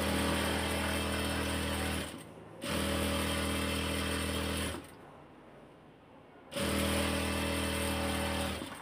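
An electric sewing machine stitches a georgette kameez in three steady, loud motor-driven runs of a few seconds each, separated by short pauses. No one speaks.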